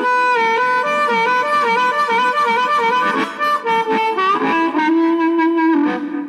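Amplified harmonica run through an amp and effects pedals plays a distorted, echoing sustained melody with chords and shifting notes, steady and close throughout.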